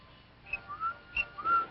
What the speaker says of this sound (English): The boy's whistling.